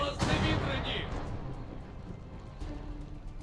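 A deep boom of ship cannon fire bursts out near the start of a Pirates of the Caribbean video game, followed by rumbling and scattered thuds under game sound effects.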